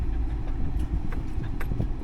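An old winch truck's engine runs at a steady idle, a low continuous rumble close by with faint clicks and knocks over it.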